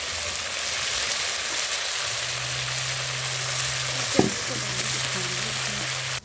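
Cumin and ginger paste fries in oil in a wok with a steady, close sizzle that runs throughout, a low hum underneath and one sharp clatter near the end.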